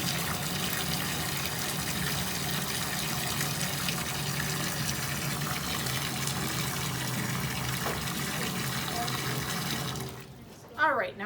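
Water runs steadily into a tub or basin while an endoscope hose is being cleaned, a constant close rushing and gushing that continues for about ten seconds before cutting off abruptly near the end.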